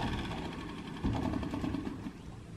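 An engine cranks over and over without catching, a steady chugging churn that grows louder about a second in, with no voices. It belongs to a vehicle on an island homestead.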